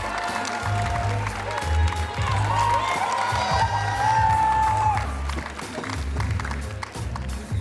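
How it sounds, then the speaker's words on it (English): An audience at a college Filipino culture night cheers and applauds, dense clapping with whoops and shouts, loud and sustained across the whole stretch over a low crowd rumble. "Let's give it up for the Hallmates"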